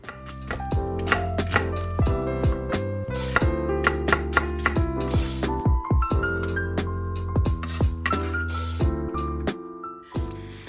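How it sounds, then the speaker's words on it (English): A knife chops through a red onion on a cutting board, making a rapid series of crisp, close taps with a steady rhythm over a musical backing, and no one speaks. "here I have 1 red onion, which I'm just going to cut, peel, and I'm going to slice as well."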